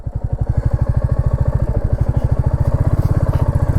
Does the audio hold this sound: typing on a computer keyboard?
no